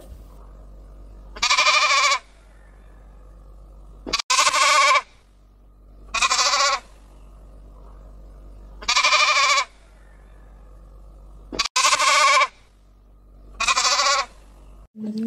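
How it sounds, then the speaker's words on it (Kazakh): A sheep bleats six times, each a loud, close, wavering call of roughly half a second to a second, separated by short pauses over a faint low hum. "Бұл қой. Қой маңырайды."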